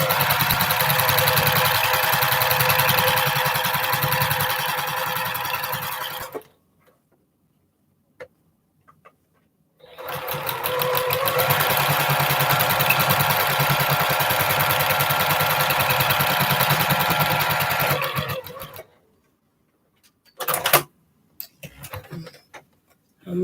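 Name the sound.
sewing machine stitching quilt blocks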